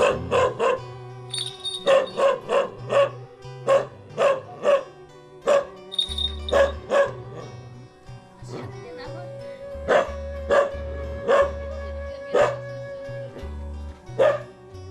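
Repeated dog barks and yips ring out in quick bursts in a rural village in Garut, Indonesia, over ongoing music, with short pauses between volleys.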